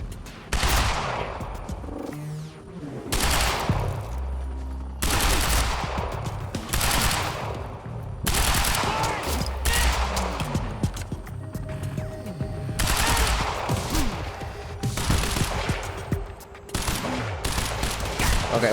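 Rapid bursts of automatic gunfire from the video game Quantum Break, loud and close, arriving in repeated volleys separated by brief pauses with a low rumble beneath.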